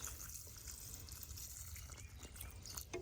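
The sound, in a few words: pouring water from a watering can onto tomato plant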